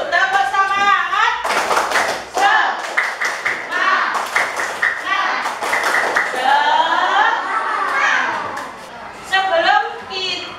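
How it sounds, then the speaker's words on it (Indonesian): A sixth-grade class performs a rhythmic spirit clap in the morning, with sharp hand claps falling in patterned bursts between chanting children's voices. "mari kita tepuk semangat dulu. Tepuk semangat."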